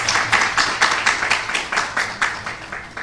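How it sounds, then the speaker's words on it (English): A small group claps at a signing ceremony, a rhythmic, fairly sparse patter of individual hand claps at moderate volume, steady for a few seconds. "Round of applause."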